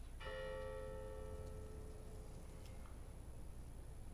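Church bells struck by gunfire in the video game Hitman, a single clear bell strike ringing out with a long, fading metallic resonance over a steady low background hum.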